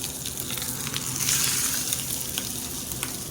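A striped bass fillet frying in butter in a pan, a loud, dense, continuous sizzle and crackle with small spatters, close and unbroken, without talk.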